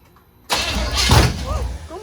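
A 1970 Chevrolet Impala, run for the first time in 4 years with the carburetor in place and much left unhooked, cranks and catches abruptly into a loud, close, rough rumble, with a voice speaking over it.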